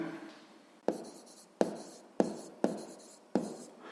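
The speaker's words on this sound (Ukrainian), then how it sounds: "Пишемо відповідь" Pen or pencil writing out the answer to a sixth-grade maths exercise on paper: five sharp taps or strokes at a steady rhythm, each followed by a short scratching trail, close and moderately quiet, with no talk.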